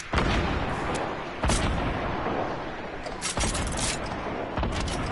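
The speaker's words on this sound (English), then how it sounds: "That's why you use double grenade launcher." Double grenade launcher firing in Fortnite, a series of loud, heavy thumping launches and booms spaced irregularly across a few seconds over continuous game noise.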